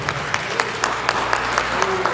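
Clapping rises from a church congregation, a steady patter of many hands with a voice carrying over it.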